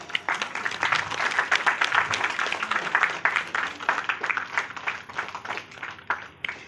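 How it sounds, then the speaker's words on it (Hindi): An audience applauds at an academic excellence award and felicitation ceremony in Arunachal Pradesh. Dense clapping comes from many hands at moderate distance and holds steady for several seconds before thinning toward the end. "जब तक प्रेजेंटेशन का सिलसिला जारी है तब तक तालियों की गूंज भी जारी होनी चाहिए।"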